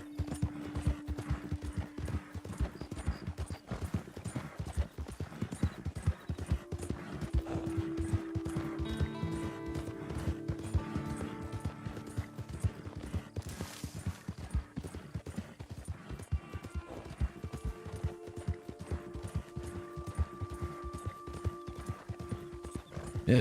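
Horse hooves in Red Dead Redemption 2 clip-clop in a steady, continuous rhythm, with tack and gear rattling along. A tonal hum runs faintly underneath.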